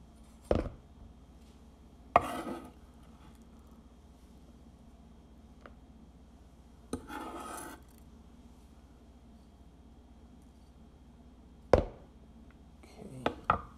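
An old kitchen knife chopping food for a frittata and biscotti, a handful of sparse, isolated sharp chops against a quiet kitchen background with long pauses between strokes.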